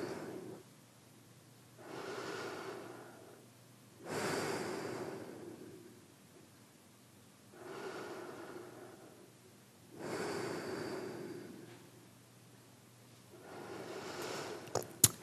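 Slow calm breathing after a yoga session, about five long, soft breaths with quiet pauses between them, close and gentle, ending with a couple of small clicks.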